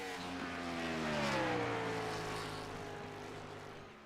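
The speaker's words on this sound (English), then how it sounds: "Sometimes I get a little aggressive with the car noise." A race car engine in a racing game, a steady droning whine with rising and falling pitch as the car revs and shifts, continuous and fairly close for the whole stretch.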